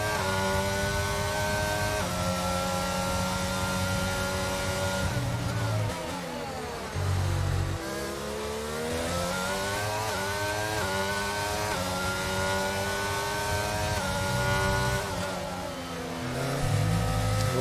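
Race car engines roar continuously in a sim racing game at the Austria circuit, with layered revving pitches rising and falling through gear shifts and overtakes, loud and close throughout.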